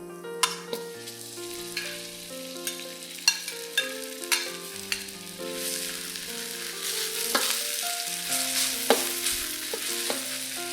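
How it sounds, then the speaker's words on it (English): Minced pork frying in a wok with ginger and garlic, with a steady sizzle under repeated sharp scrapes and clacks of a spatula stirring, over faint background music. "Fry the minced pork till it's done"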